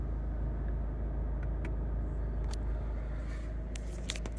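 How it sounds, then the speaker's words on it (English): A 2012 Ford Grand C-Max automatic sits idling quietly, giving a steady, low, even engine hum that stays constant throughout with only a few faint clicks on top. "Engine's been running the whole time we've been doing the video. It's lovely and quiet."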